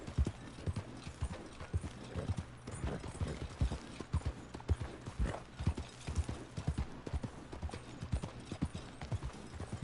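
Horse hooves clip-clop steadily on the ground in the video game Red Dead Redemption 2, a continuous close rhythmic trot with no talking.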